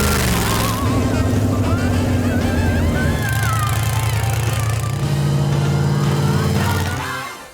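A purple Plymouth lifted gasser's engine roars close and loud in a sustained, rumbling rev with throaty harmonics, holding steady before dropping off at the end.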